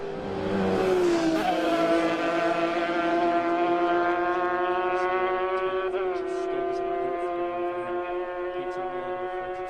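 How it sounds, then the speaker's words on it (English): Lightweight racing motorcycles passing through Glen Helen during the Manx Grand Prix, a loud, sustained high-pitched engine whine whose pitch sweeps and holds as the bikes race by. "Tom Snow and Andrew Cowie through Glen Helen on lap 2, safely through Glen Helen"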